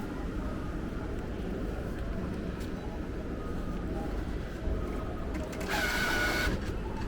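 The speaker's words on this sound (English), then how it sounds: "Please wait. The ticket is now printing." A ramen shop ticket vending machine in Japan prints a ticket, a steady mechanical whir under busy shop background noise and a synthesized voice, ending in a brighter buzzing burst near the close.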